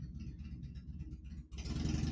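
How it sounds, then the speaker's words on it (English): A motorcycle engine hums steadily at mid distance, then surges louder and brighter in a sudden rise as it draws near. "That sounded like a pretty engine. Yeah. Yeah, he's got a motorcycle"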